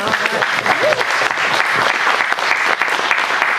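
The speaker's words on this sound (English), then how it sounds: "Let's clap for it." Audience applause at a talk, steady dense clapping from many hands filling the room, loud and sustained throughout.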